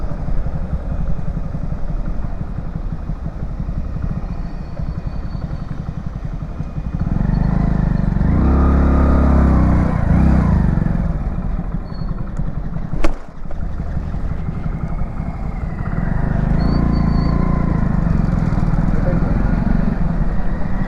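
A motorcycle engine rumbles steadily as the bike rides along a road at night, a low continuous drone that swells louder in places, with road and wind noise and a brief sharp knock.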